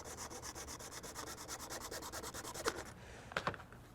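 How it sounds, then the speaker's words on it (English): A small hand saw cutting through a resin cast piece, a quick regular back-and-forth rasp of even strokes up close for about three seconds, then a couple of knocks, no voices. "I can just cut it with a little saw"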